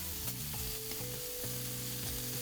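Scallops searing in a hot pan give a soft, steady sizzle over a low, tonal hum, short and uninterrupted, with no one speaking.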